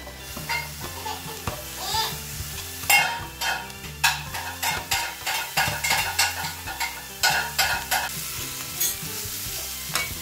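Capsicum and carrot frying in a pan for a carrot palya, with a continuous sizzle under repeated scraping stirs of a spoon against the pan, close and fairly loud.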